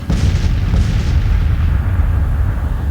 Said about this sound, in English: that artillery fire is so ferocious right now that they actually can't move